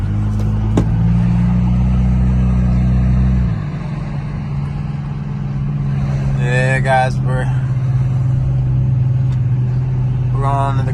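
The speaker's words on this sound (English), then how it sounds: "ISR, full exhaust, long tube headers" Infiniti G37 fitted with an ISR full exhaust and long tube headers, its deep steady exhaust note idling loud and close with a brief rev drop early on, while someone talks over it.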